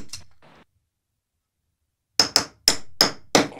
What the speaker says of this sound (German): Ich hab meinen Hammer noch nie so früh geschwungen